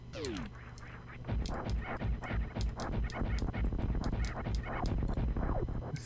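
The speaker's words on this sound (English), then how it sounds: "they sound like weird birds or bats" Strange creatures in the Super Metroid video game give off a rapid string of honking, bird-like calls, repeated many times over steady game music.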